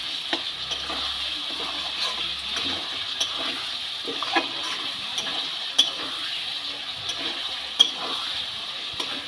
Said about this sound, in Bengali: আলুটাও ভালো করে আমি মশলার সাথে কষিয়ে নেব।